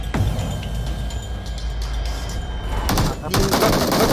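Bursts of gunfire in PUBG Mobile, a sharp shot near the start and heavier rapid firing in the last second, over constant game noise and engine rumble from a vehicle chasing behind.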